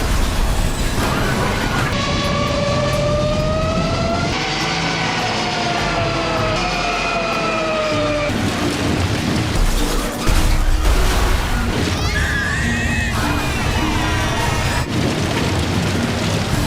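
An injured Air Force jet on a Vietnam War evacuation flight diving toward the ground at nearly 500 km/h, a loud continuous roar with falling whine tones and heavy rumbling booms, dense and sustained throughout.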